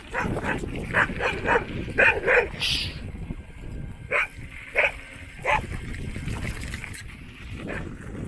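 A dog barks repeatedly at a moderate distance, irregular sharp yelps spread out over a steady outdoor background with no speech.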